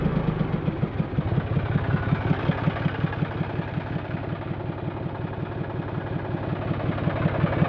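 A John Deere tractor with power steering idles nearby, its engine giving a steady, low, rhythmic chugging pulse with no talk over it.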